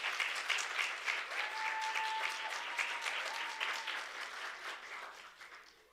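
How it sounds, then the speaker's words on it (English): An audience at a Women in Media event applauds steadily for several seconds, a dense, even patter of many hands that slowly tapers off toward the end. "A round of applause for her, please."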